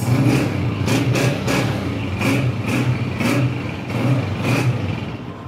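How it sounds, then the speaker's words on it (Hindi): A 2023 Honda 125 motorcycle engine runs close by, its steady putter rising in a series of quick, regular throttle pulses; no voices. "साउंड सुने दोस्तों, होंडा 125 मॉडल 2023"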